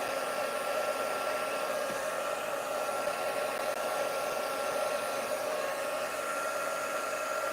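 A heat tool drying ink on a card blows with a steady, loud, unbroken whooshing hiss throughout, with no talk.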